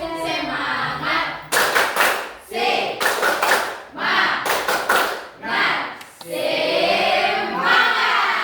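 Classroom spirit clap in an Indonesian school, with students chanting in rhythm and bursts of patterned group clapping and thumps alternating with the voices.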